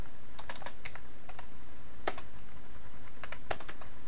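Computer keyboard being typed on while writing PHP code, a quick scattered run of crisp key clicks with a few louder taps, close and clear with no talking.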